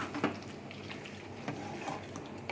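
Chicken with capsicum, onion and tomato sautés in a pan for a capsicum chicken curry, with a steady sizzle and occasional scraping stirs of a spoon, close and moderately quiet.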